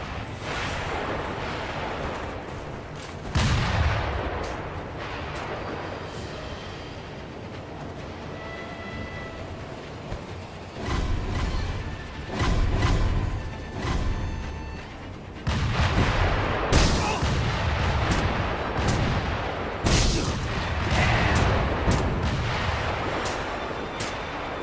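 Sniper gunshots in Sekiro, a series of sharp booming cracks with rumbling tails, arriving at irregular intervals over a steady game backdrop, some loud and close, others duller.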